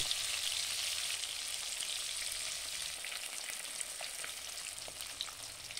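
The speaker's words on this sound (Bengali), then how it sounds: "তেল গরম হয়ে এলে ওর মধ্যে ম্যারিনেট করা মাছগুলোকে দিয়ে দেব ও গ্যাসের মিডিয়াম ফ্লেমে ভাজতে থাকবো।" Marinated rohu fish pieces fry in hot oil in a wok over a medium gas flame, giving a steady, close hiss and crackle with scattered pops and no talking.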